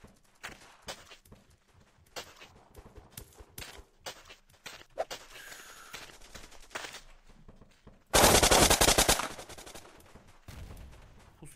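Bursts of gunfire in the video game Blockpost crackle in quick rapid volleys among footstep clicks, ending with a loud sustained burst of automatic fire, with no talk over it.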